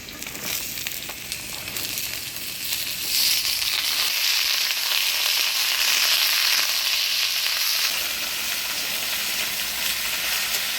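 Chopped vegetables hit a pan of frying onions and black cumin for a village-style boroli fish chorchori, giving a loud, steady, broadband sizzle that swells slightly and holds for the whole stretch with no talking.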